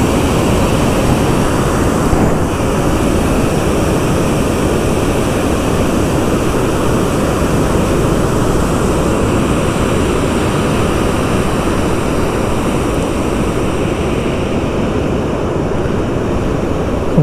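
A loud, constant roar of water rushing forcefully through fully opened dam gates at Kallanai near Trichy fills the whole stretch, dense and unbroken.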